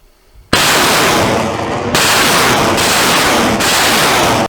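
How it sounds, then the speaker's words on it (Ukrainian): An artillery gun fires: a sudden loud blast of heavy gunfire, then sustained roaring, crackling noise with a second and third thudding report, close and overpowering. "Гармата! Постріл!"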